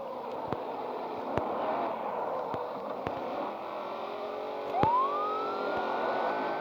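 A police car siren wails in the Petrolhead racing game, a rising tone that climbs out of a steady engine drone, with a few sharp clicks scattered through the clip.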